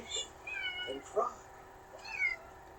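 Several high-pitched kitten mews and whimpering cries, a few short plaintive calls in succession, soft and close.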